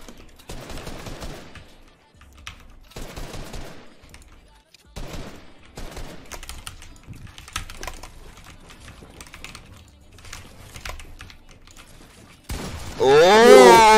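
Fortnite gunfire from a creative 1v1 warrior match comes in repeated short, loud bursts separated by brief gaps, ending in a sustained heavy volley.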